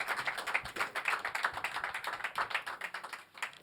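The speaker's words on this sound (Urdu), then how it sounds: "مرشد بھائی کے لیے زوردار تالیوں کے ساتھ سوالت کیجیے" Applause at an Urdu mushaira poetry gathering as a poet is welcomed, a brisk run of sharp claps from a smallish crowd, fairly close and rhythmic, with no talking.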